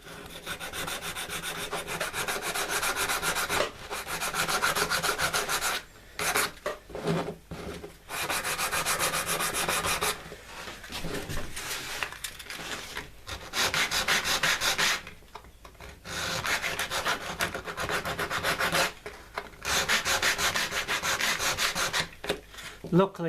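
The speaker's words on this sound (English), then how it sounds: "So we'll just sand this up." Sandpaper rubs back and forth over a new wooden patress for a vintage Bakelite switch, close and steady, the strokes broken by a few short pauses.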